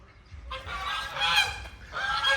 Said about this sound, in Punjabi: ਦੇ ਲੋ ਕਿਵੇਂ ਰੌਲਾ ਪਾਉਂਦੇ ਫਿਰਦੇ ਆ ਮੁਰਗਾ